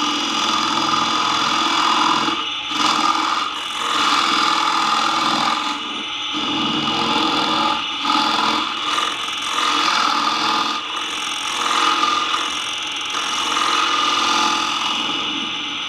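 Steady, loud whirring of a wood lathe as a gouge hollows out a wooden candle holder, with brief dips where the cut pauses and resumes, continuous throughout with no talk.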